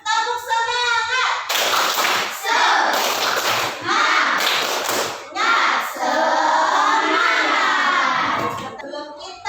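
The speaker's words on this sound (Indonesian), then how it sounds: "Tepuk semangat." A school class performs a rhythmic spirit clap in a coding lesson, bursts of many hands clapping in patterned groups with children's voices chanting along, close and fairly loud.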